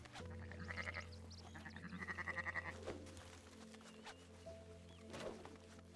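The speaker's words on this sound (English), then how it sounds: "well, you can't lasso sheep." Sheep bleat in a Red Dead Redemption 2 farm setting, several rhythmic wavering calls repeating close by over a steady low game hum, with no talk.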